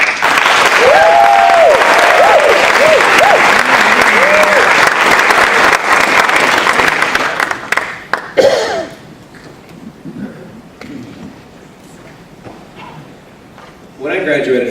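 A large audience applauds loudly to welcome the 2013 ConnectGens Fellows at a launch night event. The steady clapping lasts several seconds, then thins to scattered claps and quiet murmurs, and a few claps return at the end.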